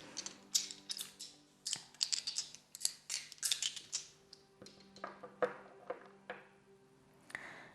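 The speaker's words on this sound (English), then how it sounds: "now I'm going to roll this astro dice and we'll see a bit more about this." Astrology dice are rolled and handled during a tarot reading, making a run of sharp, dry clicks and clatters in irregular bursts, close and fairly quiet, with no one speaking.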